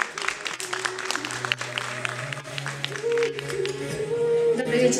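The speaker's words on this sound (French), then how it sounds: "Nos applaudissements, s'il vous plaît." A room of people at a Miss Guinée 2016 beauty pageant applauds steadily at moderate volume, with music or a held tone underneath.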